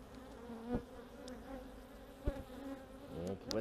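Steady buzzing of many honeybees around a Too Bee hive, a continuous drone with occasional louder passes and faint clicks, no voices.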